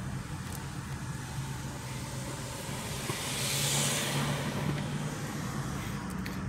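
Road traffic passing along Fifth Avenue in McKeesport, Pennsylvania, a steady broadband rush of vehicles that swells as one draws nearer, then holds, with a low engine hum underneath.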